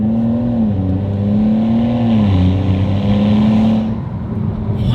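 BMW 435i with an xHP Stage 3 transmission tune driving under steady load, a loud, continuous engine drone with smoothly shifting pitch, easing off slightly near the end, heard from close by with no talk.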